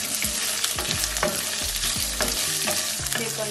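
Green chili, ginger, garlic and shallots sautéing in a pan, a continuous close sizzle broken by rhythmic scrapes of a spoon stirring against the pan, with no voices.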